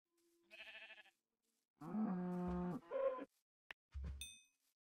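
A cow from the video game Minecraft moos several times in short, separate calls, clear and close, with a brief higher bleat near the end.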